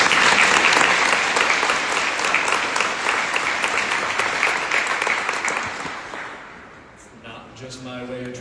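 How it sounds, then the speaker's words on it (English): Loud, dense audience applause at an awards ceremony, a continuous close roar of clapping that slowly thins and fades near the end as a voice begins speaking. "So how about a round of applause for my mom?"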